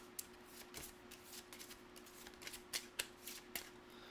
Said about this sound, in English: So let's shuffle this.